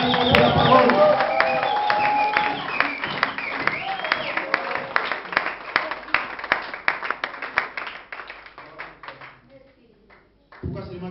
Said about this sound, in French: Acclamons très très très fort pour la parole.